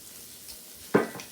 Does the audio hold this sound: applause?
no